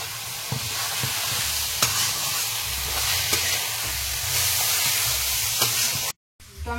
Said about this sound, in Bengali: মশলাটা ভেজে নিয়েছি